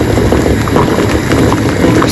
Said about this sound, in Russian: Сварю, яички варю.